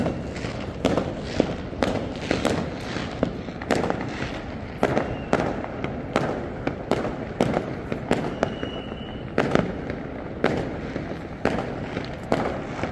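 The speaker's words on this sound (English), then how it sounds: "there are even more fireworks down there towards Nguyen Hue Street" Fireworks burst nonstop at midnight during Tet celebrations in Ho Chi Minh City, with loud, sharp cracks and booms going off every second or so against a dense, rumbling background of distant explosions.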